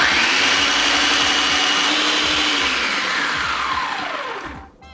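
An electric blender or mixer whirring raw sugar into a homemade vanilla pudding mix, a loud close steady whine that slowly drops in pitch as the motor winds down and stops.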